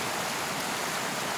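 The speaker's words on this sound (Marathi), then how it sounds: "सीझनचा पहिला धबधबा आहे हा बघितलेला मी, आणि इतका सुंदर आहे" A monsoon-season waterfall in the hills rushes in a steady, full roar with no break and no voices.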